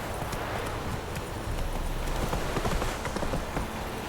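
Roach the horse clip-clopping along in The Witcher 3, a quick steady run of hoof strikes over a soft noisy ambient bed, moderately close and without talk.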